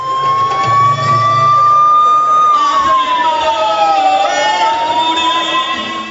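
An ambulance siren wails loudly and close, its tone sweeping slowly up and down over road traffic noise.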